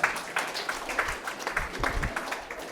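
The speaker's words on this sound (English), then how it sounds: "We don't know clap for Auntie Anna." An audience at a mental health resource donation event at a hospital claps in a loose, moderate round of applause, slightly distant and without talk over it.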